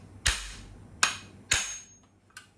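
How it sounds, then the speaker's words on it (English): A hammer strikes a socket to knock out a dent in a rusty 1938 car body, with three sharp metallic whacks at an even pace and a lighter fourth tap, close and clear. "just put that up in there and whack that thing a few times, and needs a few more whacks"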